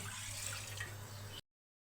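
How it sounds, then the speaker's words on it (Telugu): Water poured into a pressure cooker set on a gas stove for steaming idli, a faint, brief steady stream that stops abruptly after about a second and a half. "హాఫ్ లీటర్ నీళ్లు పోసుకొని"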